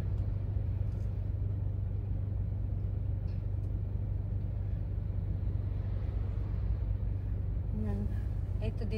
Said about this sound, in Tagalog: Ito dito ang daming sasakyan na sa Shimimachi.